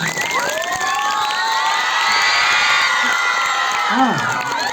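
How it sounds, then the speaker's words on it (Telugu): An audience responds with loud cheering for the Telugu language: high excited shouts and whoops, many of them children's voices, rise over a dense, continuous crowd roar. "గట్టిగా చప్పట్లు కొడదాం మన తెలుగు భాషకు"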